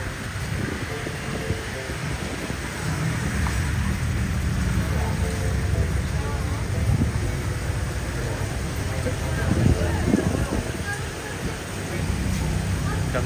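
Rain falls steadily outside a fish market in Bandung, a continuous hiss and patter on surfaces with faint background rumble and occasional louder drips, carrying on evenly for the whole stretch.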